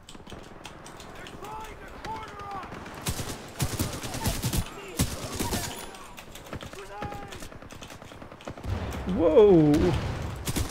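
Video game gunfire, rapid bursts of shots and rattling volleys of varying loudness spread through the clip, with a voice and other voices talking over it.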